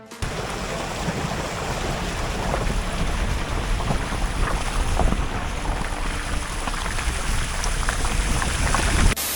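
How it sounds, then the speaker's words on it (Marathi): A flowing stream in a remote green valley in Afghanistan near the Turkmenistan border makes a steady, dense rush of water, loud and continuous throughout, with no one speaking over it. "हा एक ओढा आहे ऍक्च्युली ही नदी नाही आहे"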